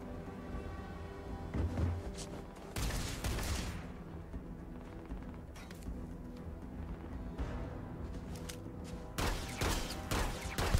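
Gunfire in the video game Starfield, bursts of shots crackling over a steady game backdrop, with heavier volleys near the start, around the middle and again toward the end.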